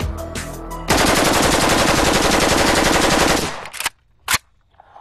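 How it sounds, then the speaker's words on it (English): An AK-47 Kalashnikov rifle fires a loud, continuous automatic burst of about two and a half seconds, followed by a couple of separate sharp shots and brief quiet. "Firing 600 rounds per minute and effective to 300 yards, the AK-47 performs"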